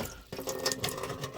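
Soaking vinegar drains off a batch of rusty nuts and bolts, a steady close trickle and splash of liquid running for about a second after a brief quieter start.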